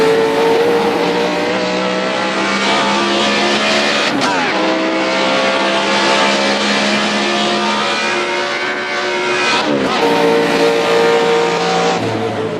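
Race car engine in a driving video game, holding a loud steady drone with shifting pitch as the car takes curves on a track, with brief gear-change dips and no talk.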